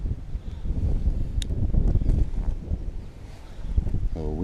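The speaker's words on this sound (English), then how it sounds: "The wind has turned now slightly" Wind gusting steadily across Rietspruit Dam during a bass fishing outing, a rough, broadband rumble buffeting close to the microphone, with no talking.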